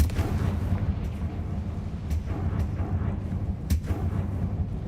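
A Confringo fire spell cast in Hogwarts Legacy, heard as a series of booming, crackling blasts over a dense, continuous rumble of game sound, with sharp bursts standing out near the two- and four-second marks.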